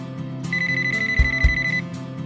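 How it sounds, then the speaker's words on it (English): A VTech CS6649 cordless phone handset rings with a bright electronic warble, pulsing in a rapid repeated pattern, close and loud, while low music plays underneath. "you'll never have to scramble to find a ringing cordless handset"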